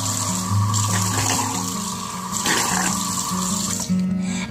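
A sink tap runs steadily while someone rinses, water splashing continuously and close by, with a few clatters and a brief surge partway through.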